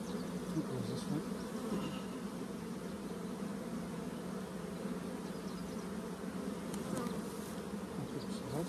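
Honeybees buzzing around open hives while nucs are being made, a dense, continuous drone from many insects close by, steady and fairly quiet.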